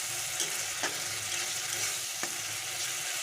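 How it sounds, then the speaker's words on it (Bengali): Okra frying in a pan with ginger-garlic paste for a Bengali-style bhindi do pyaza, a steady close sizzle throughout with a couple of soft clicks of a spoon stirring. "এটা আমি ভালো করে রান্না করে নেব যতক্ষণ না আদা রসুনের কাঁচা গন্ধটা যায়"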